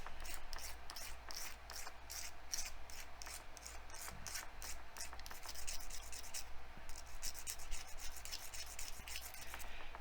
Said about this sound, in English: this emery board will work. You want to take the shine off of it. Give it some good scratching.